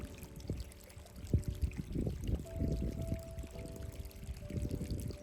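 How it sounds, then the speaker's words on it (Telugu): Irrigation water splashes and trickles steadily onto plants in a farm field outdoors, with irregular gurgling bursts and a faint hum in the background. "పొలంలో మొక్కలకు నీళ్లు పడుతుంటాం కదా"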